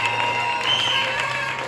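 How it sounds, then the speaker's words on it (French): Crowd at a KABOD 2025 campaign rally cheering and calling out together, a dense steady roar of voices with a constant hum underneath, sustained without pauses. "Est-ce qu'on peut faire des acclamations des cabotes?"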